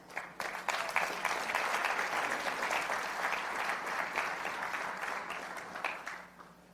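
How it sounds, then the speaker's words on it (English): Audience applause at a talk on money and leadership, a sustained round of many hands clapping that swells quickly, holds steady for several seconds, then fades away. "Clap."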